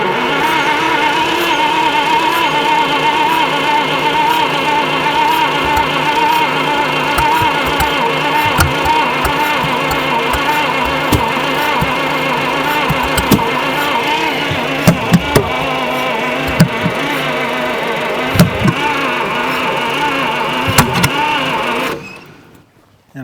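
A 1950 Buick Special engine that sat for 55 years cranks and runs roughly, a loud steady churning drone with uneven knocks and pops, cutting off abruptly near the end.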